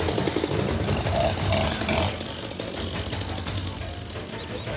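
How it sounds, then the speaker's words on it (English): Chainsaws cutting brush during an elephant relocation operation make a steady, buzzing engine drone. It is louder for the first two seconds, then settles into a slightly quieter running whine. "They've got some chainsaws in here, which they're cutting the brush away from."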